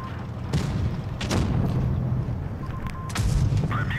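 Tank cannon shots in World of Tanks Blitz, with heavy booming blasts at irregular intervals over a low rumbling engine and battle noise.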